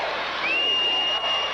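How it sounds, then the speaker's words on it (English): A crowd at the 2000 SEC gymnastics championships cheers after a floor routine, a dense roar of voices with a single long, high whistle cutting through. The burst is brief. "You know exactly what the crowds are cheering for after a performance like that."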